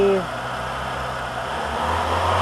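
VW A2 engine held near 2000 RPM with the fuel cut-off switching in and out: a steady mid-pitched running hum that rises slightly toward the end, close and continuous, with brief talk at the start.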